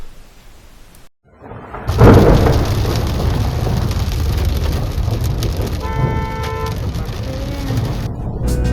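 Heavy rain drums loudly and steadily on a car during a family long drive in a downpour, a dense continuous roar after a brief quiet start, with faint tones from inside the vehicle.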